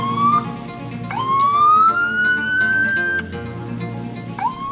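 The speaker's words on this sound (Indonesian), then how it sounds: "Kita bunyikan sirine terus" An ambulance carrying a COVID-19 patient sounds its siren up close and loud, a rising wailing tone that sweeps upward, holds, then restarts with quick whoops over the vehicle's engine rumble.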